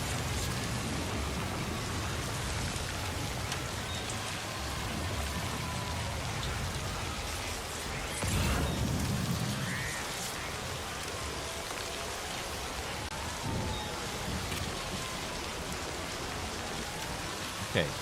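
Steady rainfall in Death Stranding 2 patters continuously, with occasional louder drops and a faint low rumble, no voices.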